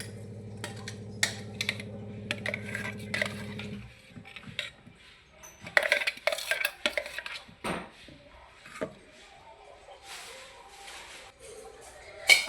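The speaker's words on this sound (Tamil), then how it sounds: "இப்போ நம்ம வந்து பவுலுக்கு மாற்றிக்கலாம்." Freshly ground garlic chutney scooped from a mixer jar into a bowl: after a few seconds of low steady hum, a spoon clinks and scrapes against the containers in scattered, close knocks and taps.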